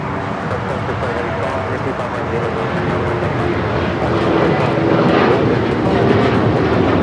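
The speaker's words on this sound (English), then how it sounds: "American Airlines 1077 taking off to Chicago on the 737-800" An American Airlines Boeing 737-800 takes off from LAX for Chicago, a loud broadband jet roar that swells toward the end, with voices faintly over it.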